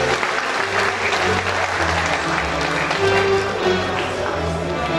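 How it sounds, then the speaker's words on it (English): An auditorium audience at a Nigerian university function gives a steady, loud round of applause for the vice chancellor, a dense wash of clapping with a few louder claps standing out and no talk. "a round of applause for him"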